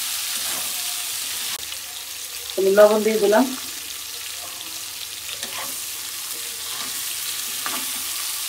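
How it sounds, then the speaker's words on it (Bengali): Green bananas frying in oil with onions make a low, continuous sizzle, with a short burst of stirring clatter partway through and a voice speaking briefly over it. "আমি কলাগুলো তেলের পর দিয়ে দিলাম, পেঁয়াজ আর তেলের পর।"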